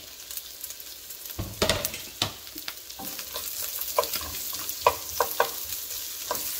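Onions cooking in rendered bacon fat, a low steady sizzle broken by scattered stirring scrapes and clinks, close and fairly quiet, with no talking.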